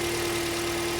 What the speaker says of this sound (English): having a listen to the engine, there's no loud bangs or clunks